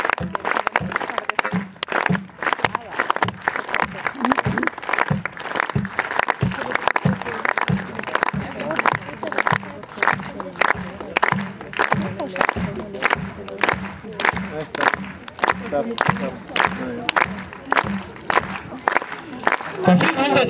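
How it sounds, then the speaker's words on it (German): An audience at a castle opening with a knights' show claps along in steady rhythm, with many hands beating sharp even claps for about twenty seconds, loud and sustained, with some crowd voices mixed in. "Alle klatschen im Takt jetzt."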